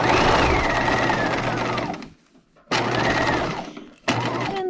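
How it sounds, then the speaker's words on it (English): A sewing machine stitches a dress seam up to the pockets, humming loudly in three close runs with brief pauses between them. "you're just stitching up to where the pockets stay and the skirt meet"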